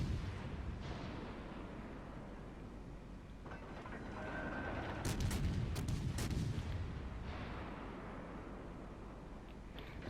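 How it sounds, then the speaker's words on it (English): Ship turret guns firing in the naval video game World of Warships Legends, a dense rumbling barrage with heavy booms swelling midway, over steady engine and sea noise. "I'll start shooting him."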